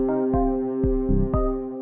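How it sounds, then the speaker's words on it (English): Clean synth pattern from an Elektron Analog Four MKII, steady sustained tones with a kick-like thump repeating about every half second, loud and alone. "So as always, I like to start with my clean sound, which is coming from the Analog 4 Mark II"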